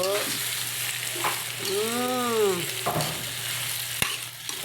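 Shrimp cooking in butter produce a steady crackling sizzle up close, with a brief whistling tone in the middle and a sharp utensil knock near the end.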